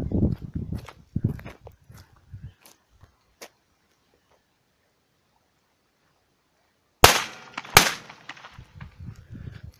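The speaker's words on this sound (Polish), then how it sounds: "zwykła taka petarda dwustrzałowa od śmieszka," Outdoors, a strong two-shot firecracker goes off with two sharp close bangs about a second apart, preceded by footsteps and scattered small knocks, then quieter rustling afterward.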